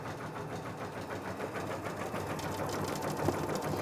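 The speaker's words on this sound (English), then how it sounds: "when you're stitching it, it's very easy to get it pulled" Sewing machine stitching stretchy minky fabric, a steady, fast mechanical whir with a fine rapid ticking that holds constant throughout at moderate volume, no voices.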